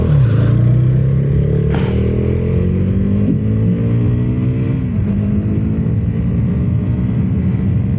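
A 2026 KTM Duke 250 motorcycle riding on a road, its engine loud and close with steady droning and pitch rising through gears, a continuous roar over wind noise, no voices.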